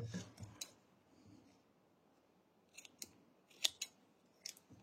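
Scissors snip crochet yarn in a few quick, close cuts, soft isolated clicks spaced out over a quiet background with a little rustling.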